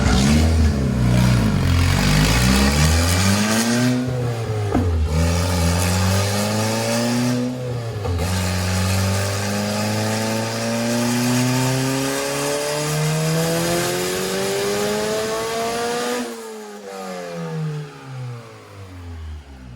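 A Honda K-series engine swapped into a Porsche 911 revs hard on a dyno, climbing repeatedly through rising pulls with brief lifts between them, loud and close, then dropping off sharply near the end.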